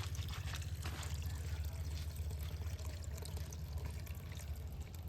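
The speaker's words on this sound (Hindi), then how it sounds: "देखियो पेट्रोल से ज्यादा पानी बह रहा है" Water gushes steadily from a motorbike's petrol tank, a continuous pouring and splashing flow heard close up with a low rumble underneath, with no talking.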